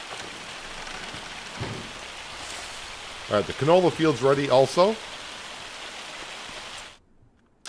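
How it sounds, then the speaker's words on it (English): Hail falls in the Farming Simulator 25 video game as a steady hiss of pattering over a soft rumble, continuing under a man's brief speech before cutting off abruptly near the end. "oh, we got some hail. That's not a good way to start the morning."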